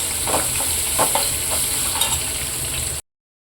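Spices tempering in hot oil with asafoetida for a spinach-style greens curry, giving a steady close sizzle with a few stirring scrapes of a spoon in the pan, no voices.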